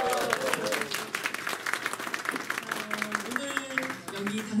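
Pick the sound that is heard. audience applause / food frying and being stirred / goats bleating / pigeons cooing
audience applause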